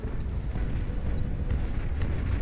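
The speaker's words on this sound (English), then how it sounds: "giant nuke does connect right here" A giant nuke detonates in the real-time strategy game Beyond All Reason during an 8v8 deathmatch, a sustained rumbling blast with crackling debris that rolls on steadily and fairly loudly.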